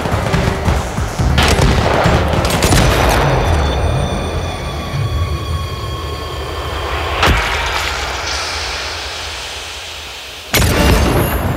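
Prototype weapon fire in a sniper shooting game: a few loud, sharp gunshot blasts spaced seconds apart, each followed by long ringing echoes and a rumbling tail, with no talk.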